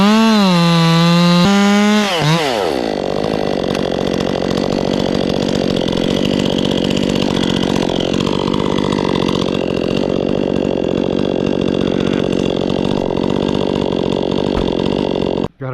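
A chainsaw with a 32-inch bar cuts into an oak tree: a loud revving start, then a sustained, close, labouring cut that holds for over ten seconds before dropping off abruptly.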